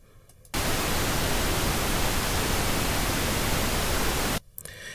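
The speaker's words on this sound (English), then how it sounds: "Now let's hear what pink noise sound like." A loud, steady burst of pink noise used as a mixing test signal, a broad even hiss with a strong low end that starts abruptly and cuts off after about four seconds.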